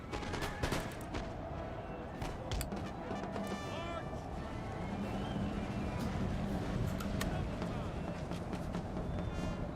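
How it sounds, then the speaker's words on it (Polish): Musket volleys and scattered gunfire from a battle in the video game Empire: Total War, a dense continuous crackle of shots with sharp reports under ongoing battle noise, loud throughout. "No i strzelamy."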